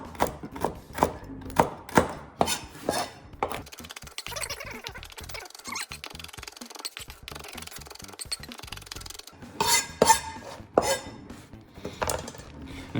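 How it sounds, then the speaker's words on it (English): A knife rapidly chopping food on a board, crisp rhythmic strikes in quick bursts with a short pause midway, close and clear with no talking, as ingredients for lamb kofta are cut fairly fine. "just run your knife through and chop them up until they are fairly fine"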